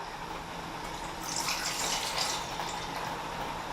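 Water, 350 ml, is poured into a container for a chawanmushi savoury steamed egg custard, a steady soft rushing that swells slightly midway, moderately quiet with no talk.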